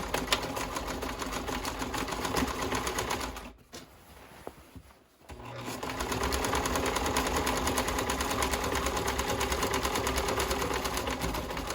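A sewing machine stitches a French seam on a classic tote bag with a steady, close mechanical whir. It slows and pauses for about two seconds midway, then resumes its even run.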